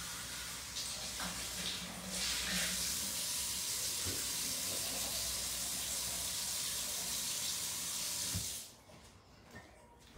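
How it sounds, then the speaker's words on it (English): Water from a kitchen sink tap runs steadily into an opened can of beans for about eight seconds with a constant hiss, then cuts off, leaving a quiet room with a few faint clicks. "And then I'm gonna add water and just drain it again."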